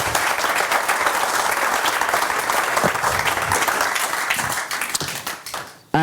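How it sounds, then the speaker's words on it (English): Applause for Ashley at the close of a Cloud Native London tech meetup in December 2019, dense steady clapping from an indoor audience for about six seconds, tapering slightly before stopping abruptly. "round of applause, please, for Ashley."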